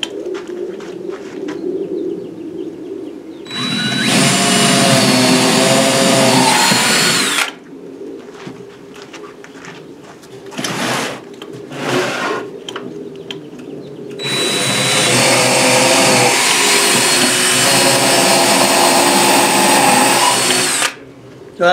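A power drill with a 1/4 inch bit bores into a 2x4 in two long, loud bursts of steady whine, each several seconds long, with shorter quieter tool sounds and bird cooing in the gap between them.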